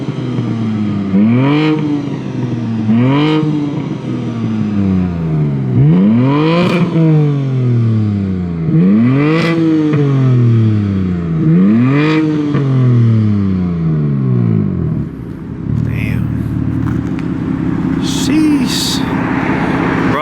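Close, loud revving from a BMW sports car exhaust: six throaty surges climbing and dropping in regular succession, then settling into a low idle.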